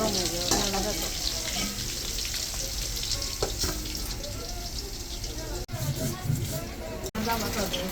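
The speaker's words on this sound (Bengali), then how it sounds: "আলুটা লাল লাল করে ভাজা হয়ে গেছে" Potatoes for aloo dum frying in a pan, a steady dense sizzle running throughout with brief stirring clatter and short gaps near the end, a voice speaking faintly over the cooking.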